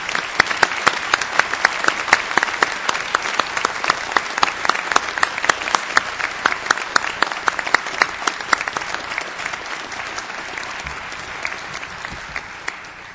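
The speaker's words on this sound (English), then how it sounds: "Ladies and gentlemen, let's give them another round of applause." An audience at the South Dakota School of Mines fall 2009 commencement gives sustained, brisk applause for new master's degree recipients, many individual claps standing out as sharp hits throughout the long ovation.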